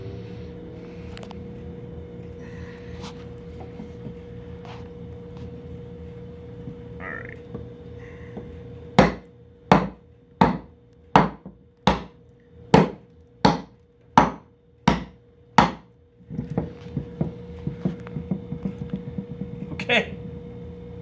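Wood being chopped with a Mora 511 knife and then a butter knife, about ten sharp evenly spaced knocks in a row, loud and close, with quieter handling noise and a faint voice before and after.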